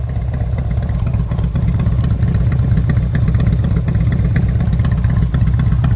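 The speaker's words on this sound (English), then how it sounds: "tuned flow exhaust. Pretty large baffle on it, pretty large opening for the exhaust, and it gives it a real nice rumble." A 1986 Harley-Davidson FLHT with a Hooker tuned flow exhaust idles steadily with a deep, throaty rumble, loud and close, with no voices.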